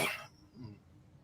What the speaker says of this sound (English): I'm having a coughing episode for some reason